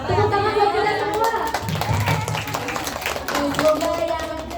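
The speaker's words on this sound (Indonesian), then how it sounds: "Tepuk tangan buat kita semua." Audience clapping at an Islamic study gathering, a short burst of hand claps mixed with voices and chatter, moderately loud and fading under continued talk.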